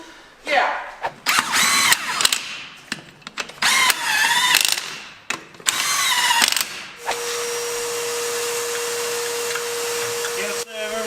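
A power tool bolts used parts onto a 1979 Ford F150 truck engine in a garage. Repeated loud whirring bursts are interrupted by ratcheting clicks, then a steady whine with a tone runs to the end. People talk briefly at moments.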